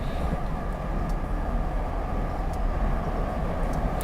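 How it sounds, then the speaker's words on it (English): Diesel locomotive engine throttling up in Train Simulator 2016, a low rumbling drone heavy in the bass that holds steady and continuous, with faint higher clicks over it and no talking. "The engine in this locomotive actually sounds quite nice, especially when you start ramping it up"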